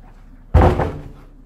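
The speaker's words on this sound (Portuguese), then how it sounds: "A porta nunca bateu aqui." A door bangs shut once with a loud, heavy thud that fades quickly, heard alone in an otherwise quiet room.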